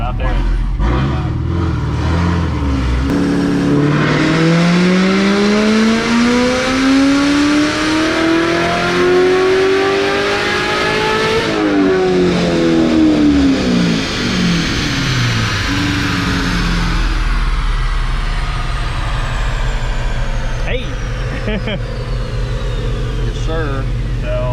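A Corvette Z06 engine on a dyno roars through a long rising rev, peaks, then drops back to a deep idle rumble, loud and heard from inside the car, with voices talking over it.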